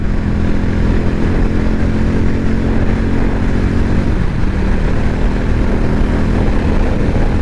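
Harley-Davidson X440 motorcycle engine and exhaust roaring at top speed, a loud, steady, close drone with wind rush and a slight shift in pitch partway through, with no talking.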